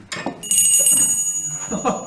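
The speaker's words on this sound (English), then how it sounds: "No, actually, that's the bedroom bell." A bedroom bell in a house rings with thin, sustained high tones that linger for most of the moment, with people talking briefly around it.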